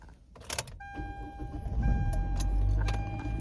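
A worn 2015 Hyundai Elantra with about 150,000 miles cranks and starts: faint clicks and a whining starter, then the engine catches and settles into a low, fairly loud idle.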